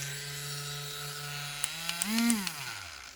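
A small cordless rotary polishing tool working the painted body of a Tamiya Mazda RX-7 model car: a steady high electric whine that dips and rises in pitch as the tool is loaded, with a few light ticks near the end.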